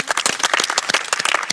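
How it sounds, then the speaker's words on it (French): A small audience at an opera audition session in the Central African Republic bursts into brisk, close clapping, a dense run of claps that carries on steadily with no break. "Donc moi, je vous applaudis. Bravo."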